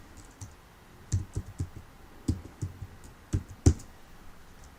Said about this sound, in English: And then we're going to type your name